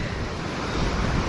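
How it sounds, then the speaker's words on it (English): Strong wind roars steadily across the microphone at a campsite beneath a Swiss waterfall, a dense, broad rushing noise with no pauses, likely mixed with the falling water. "I hate that it's so windy because it's hard to enjoy it"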